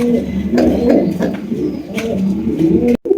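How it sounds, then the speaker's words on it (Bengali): A pair of big chandan pigeons coo close by in repeated soft, throaty rolls that run almost continuously before a sudden brief cutoff at the end. "এখানে রয়েছে একজোড়া চন্দন কবুতর খুবই সুন্দর"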